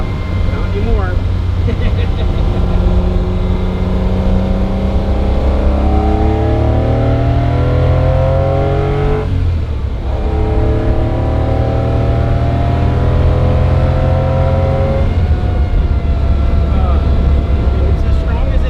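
A 1964 Ferrari 250 Lusso engine revs loudly from inside the car, its pitch climbing and falling through repeated rises, with occasional voices talking over it.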